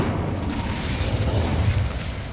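A Confringo explosive spell goes off in Hogwarts Legacy, giving a loud, dense rumbling boom with a low-end roar that sustains through the whole moment, with no talking.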